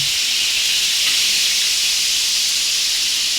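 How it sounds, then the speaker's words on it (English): Beef for jollof rice browns in a frying pan in Ghana, a loud continuous sizzling hiss that stays steady and close throughout. "she's turning the meat so it does not stick to the frying pan"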